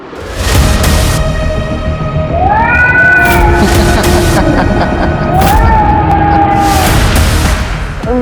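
A cat meows in a drawn-out, rising and falling cry, heard twice amid loud, harsh, cluttered background noise and sharp bangs, fairly close and prominent.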